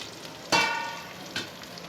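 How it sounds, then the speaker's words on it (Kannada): Green chillies frying in a pan for onion chutney, a soft steady sizzle with two sharper bursts of crackle as they are stirred, nearby and alone. "ಇವಾಗ ನೋಡಿ ಹಸಿಮೆಣಸಿನ್ಕಾಯಿ ಫ್ರೈ ಆಗಿದೆ"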